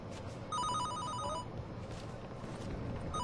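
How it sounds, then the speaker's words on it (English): A video-game telephone rings in short warbling electronic bursts, fairly faint over a low background hum, with no talk. "Go pick up the phone."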